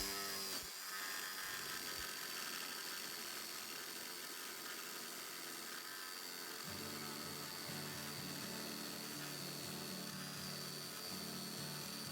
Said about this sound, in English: I went ahead and used my jigsaw to do that on the front and both sides